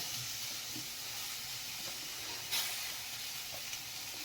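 Shredded cabbage dropped into a hot pan for atta noodles gives a steady, soft sizzle and hiss. A faint clatter sounds midway, and no one speaks.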